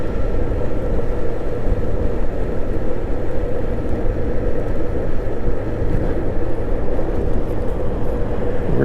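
Steady, loud wind roar buffeting the microphone while riding a Honda GL1800 Goldwing motorcycle on the road, a continuous low rumble without any pauses.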